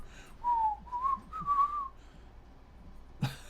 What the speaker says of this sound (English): No, keep whistling.